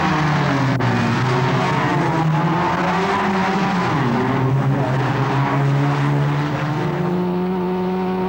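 Race cars at the Macau Grand Prix street circuit stream past in a loud, continuous engine roar, with several overlapping revving tones rising and falling as the pack heads toward a bend.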